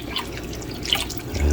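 Water drips from a newly installed reverse osmosis filtration system, a few faint taps over a steady background wash with no speech.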